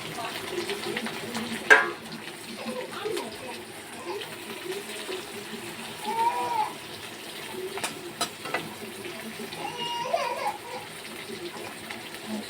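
Peanut-masala-stuffed okra (bhindi) fries in hot oil, giving a faint, patchy sizzle with scattered pops and stirring scrapes, under soft talk.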